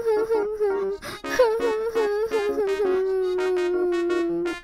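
Two animated children in a Tamil kids' cartoon cry together in a sustained, wavering wail broken by short sobbing catches, loud and close throughout.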